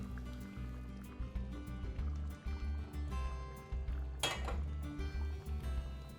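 Spaghetti being stirred in a full pot of boiling liquid on a stove, with a steady low bubbling churn and sloshing throughout and a brief brighter splash midway.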